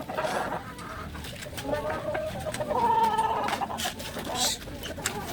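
A chicken clucks repeatedly in irregular bursts at close range, over a steady background of ambient noise.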